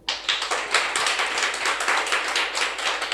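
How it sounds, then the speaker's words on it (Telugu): A church audience at a Christmas sermon claps in an irregular, dense patter that continues evenly through the moment, with no talk over it. "చప్పట్లు కొట్టు"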